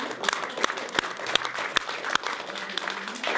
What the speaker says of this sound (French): on peut applaudir le public qui est extrêmement nombreux ce soir